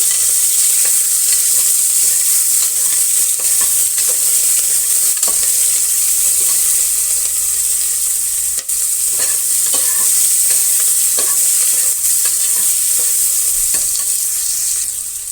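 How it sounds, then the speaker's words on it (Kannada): Thin-sliced onions fry in hot oil in a pan, a loud steady sizzle running throughout with scraping stirs and occasional clicks of a spoon against the pan, no voices present. "ಈರುಳ್ಳಿ ಉದ್ದಕ್ಕೆ ಸಣ್ಣ ಸಣ್ಣಕ್ಕೆ ಕಟ್ ಮಾಡಿಟ್ಕೊಂಡಿದ್ದೀನಿ ಅದನ್ನು ಸೇರಿಸ್ತಾ ಇದ್ದೀನಿ ಇದು ಕೂಡ ಫ್ರೈ ಆಗಲಿ"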